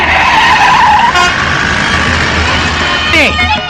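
A car with faulty brakes driving fast in a film scene, a loud engine roar with a sharp tyre skid squeal near the end and voices over it.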